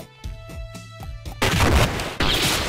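Gunfire in the side-scrolling game Iconoclasts: a quick series of sharp, punchy shots over a musical backing, then a burst of dense, loud blasts and crashing, close and with no talk.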